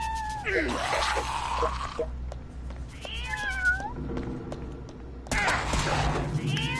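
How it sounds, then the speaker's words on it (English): Cat meowing in Fallout Shelter, repeated cries in separate bursts over steady game background noise, fairly loud and close, with a quieter gap between them. "the cat's meowing just... it's so tedious"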